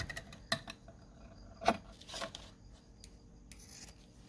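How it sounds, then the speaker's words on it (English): Scissors cutting paper for a junk journal envelope, a few sharp close snips and rasping slices spaced over a quiet background, no talking. "So I'll go ahead and cut another piece."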